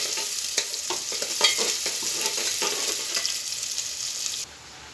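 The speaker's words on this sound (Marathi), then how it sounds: "तेल गरम झालं याच्यात बारीक चिरलेला कांदा घालायचा, तो गुलाबी होईपर्यंत भाजून घ्यायचा" Finely chopped onion frying in hot oil in a pan for a goat head and trotters curry, a steady loud sizzle with stirring scrapes throughout, dropping off abruptly near the end.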